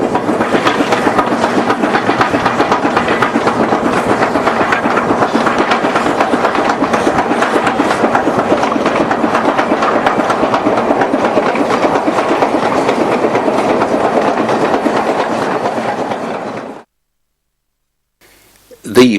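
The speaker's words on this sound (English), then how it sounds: "Our final shot on the Nanpiao Railway takes us to Kiaotu Viaduct as a train for Nanpiao heads past." A train bound for Nanpiao rolls steadily across Kiaotu Viaduct on China's Nanpiao Railway, loud and close with continuous rumble and wheel clatter for about seventeen seconds before cutting to near silence.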